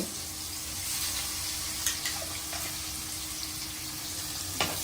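Onions frying in hot oil after eggs were cooked, a steady, fairly soft sizzle throughout with a few faint utensil taps and clicks.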